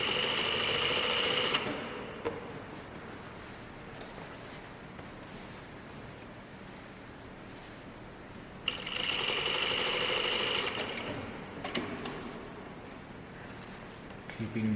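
Sewing machine stitching the button stand of a button-up shirt, running in two loud bursts at the start and again near the middle, with quieter handling and faint room noise between.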